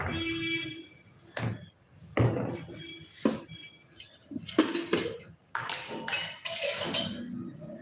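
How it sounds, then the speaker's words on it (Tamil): A metal wok clanks and scrapes several times as it is placed on a kitchen stove, a few sharp clinks between quieter shuffling, close by with no talking. "வதக்கிறதுக்கு அடுப்புல ஒரு வடச்சட்டி வச்சுக்கலாம்"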